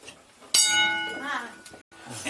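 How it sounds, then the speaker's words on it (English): A gold mine's signal bell rings once with a sharp metallic strike, then a long ringing decay that fades out over a couple of seconds, heard up close in an underground tunnel. "Okay, they use this bell system."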